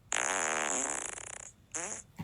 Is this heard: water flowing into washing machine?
no